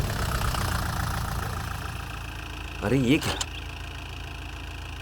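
A tractor engine idles with a steady low rumble throughout, while a man briefly calls out over it midway.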